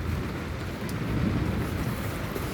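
Heavy rain drums on the roof of a car from inside the cabin. The low, rumbling patter is dense and continuous, with a dull roar close overhead and no talk.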